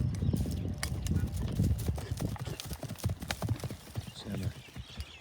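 A young two-year-old horse runs with rapid, clattering hoofbeats of clip-clop close by, loud and continuous, with an occasional whinny and some background voices.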